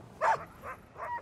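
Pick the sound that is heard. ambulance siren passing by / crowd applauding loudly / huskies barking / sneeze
huskies barking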